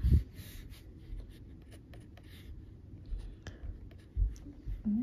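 A glass dipping pen nib draws on paper in soft, faint scratchy strokes, with a few slightly louder taps and scrapes spread across the quiet stretch.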